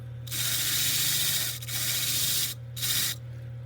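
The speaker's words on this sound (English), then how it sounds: "I'm even going to use this to clean up this cartilage now" A wire wheel scrubs the ear cartilage on a taxidermy form in three loud, raspy bursts of about a second each, with short pauses between them and no talk.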